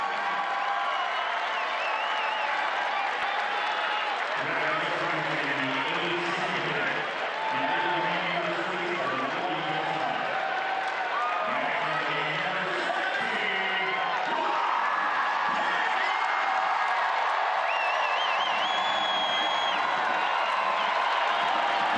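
A home crowd fills a soccer stadium during a Tampa Bay Rowdies match with a steady roar of cheering and chanting. A public address voice booms over it in the middle, and the crowd noise holds loud and constant throughout.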